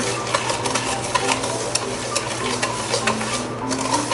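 Softened butter and sugar being mixed into cake batter for an Italian cream cake, a steady whirring, scraping churn with a low motor-like hum running continuously and fairly close.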